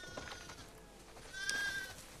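Sheep bleat in The Last of Us Part II video game, with a short clear bleat rising near the end over quiet farm ambience.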